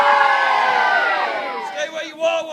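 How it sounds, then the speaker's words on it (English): A crowd at a portcullis opening ceremony for Warwick's castle gate lets out a loud, sustained cheer. Mixed shouts and whoops are strongest at first, then fade and break into scattered calls toward the end. "Give me a cheer for the gate of Warwick rising!"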